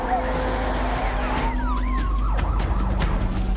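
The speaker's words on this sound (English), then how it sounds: "Sirens lit up Bondi." Police sirens wail across Bondi Beach, rising and falling sweeps layered over a steady tone and traffic rumble, loud and sustained throughout.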